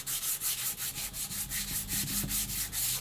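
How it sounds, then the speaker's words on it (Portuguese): Cement putty on a vase made from a milk carton gets sanded in quick back-and-forth strokes, a close, rhythmic, gritty scraping that repeats about five times a second with no talking. "Então é para você lixar mesmo até chegar no cimento"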